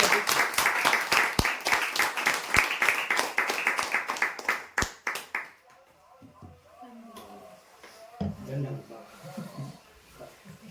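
Crowd applause for lucky draw winners at a prize draw event, dense loud clapping for about five seconds that breaks off abruptly, followed by quieter room noise and faint talk.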